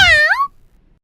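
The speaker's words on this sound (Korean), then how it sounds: "고양이 울음소리가 다시 들려왔을 때" A single cat meow, loud and close, rising then falling and trailing off within half a second, followed by near silence.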